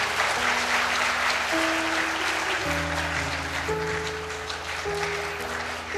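A church congregation at a year-end thanksgiving service applauds with sustained, dense clapping that fills the whole stretch, while organ or keyboard chords sound underneath.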